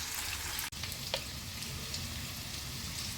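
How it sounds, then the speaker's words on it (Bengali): Mixed vegetables for a restaurant-style navratan korma fry lightly in a pan with a steady hissing sizzle, one sharp brief dropout and a soft clink, close, with no voices. "এগুলো হালকা হালকাভাবে একটু ভেজে নিতে হবে।"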